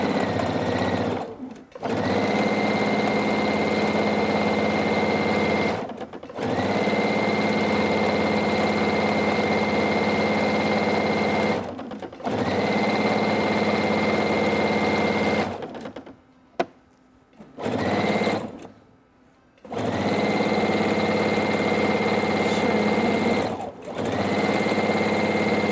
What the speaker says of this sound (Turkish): Şimdi ben bunu düz dikişte biraz iri dikiş yapıyorum.